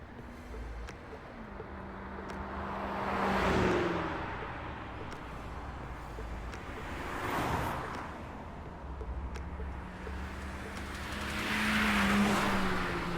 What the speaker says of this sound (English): there's been an increase in illegally modified cars here. They race from midnight until dawn.